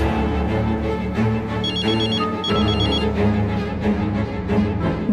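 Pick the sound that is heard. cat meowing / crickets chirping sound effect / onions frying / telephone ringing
telephone ringing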